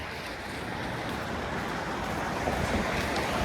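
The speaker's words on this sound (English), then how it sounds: "Oh, wind's picking up." Steady outdoor wind roaring and buffeting the microphone while walking through Midtown Toronto in the season's first snowfall, a constant broadband rush that stays loud and even throughout.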